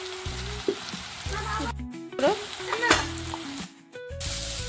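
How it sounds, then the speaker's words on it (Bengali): Banana flower with turmeric powder is sautéed and stirred in a pan, with an ongoing sizzle and stirring scrapes heard under tonal background music that cuts out briefly twice. "সব ভালো করে একবার কষিয়ে নেব।"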